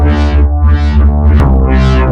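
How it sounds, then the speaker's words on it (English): A rack of detuned, phase-synced Razer synth voices plays a loud, thick neurohop bassline, sweeping in three rhythmic filter swells with a brief bright click between them. No talking. "basically a rack of detuned and phase-synced Razers."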